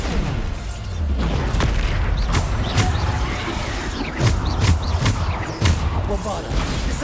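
Bombarda spell blasts in a Harry Potter wizarding video game, a dense string of booming impacts and crashes over continuous action noise, with voice chatter mixed in.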